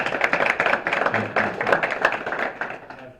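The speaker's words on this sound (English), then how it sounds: "let's give another round of applause" A round of applause at a city council meeting, lively clapping from a modest crowd with distinct individual claps, fading out toward the end.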